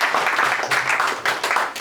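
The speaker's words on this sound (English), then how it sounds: "So let's make an applause for him." Audience applause for a speaker at a business event, a loud, dense burst of clapping from a crowd held steady and close throughout, with no talk over it.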